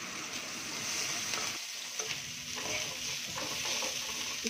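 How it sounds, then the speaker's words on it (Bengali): Okra and potato curry stir-fried in a pan at home, a continuous close sizzle with spatula scrapes and stirring clatter, fairly quiet and without speech. "এখানে আম্মু ভিন্ডি আর আলু দিয়ে একটা সবজি বানিয়ে নিচ্ছে।"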